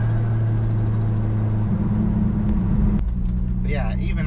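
A swapped car's engine pulling from near idle while driving, a steady low rumble with a shift in tone near the three-second mark, and a voice starting to talk over it toward the end.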